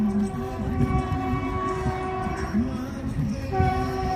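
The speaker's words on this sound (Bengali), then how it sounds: "ট্রেনের আওয়াজ আসছে" A train passes near an open field by a fishing spot, a sustained rumbling roar with long tonal horn-like drones rising and falling, loud and steady for the whole stretch.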